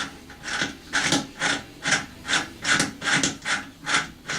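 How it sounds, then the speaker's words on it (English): A steel bolt turns out of a T-nut set in wood, producing a rhythmic series of about ten grinding rasps, each a short scraping burst at a steady pace, close and fairly loud. "So we just run our bolt back out."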